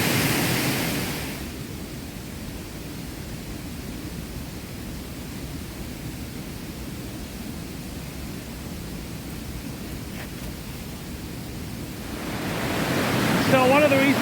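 A waterfall on Vancouver Island in the Alberni Valley roars as a constant, broad rushing wash of water that holds steady for the whole stretch and swells slightly at the end.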